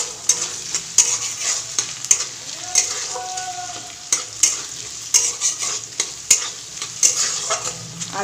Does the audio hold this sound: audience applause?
no